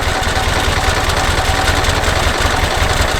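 Tempo Matador van idling close by, a steady rhythmic mid-pitched engine chug with fine even pulses and a slight vibration, running alone without voices.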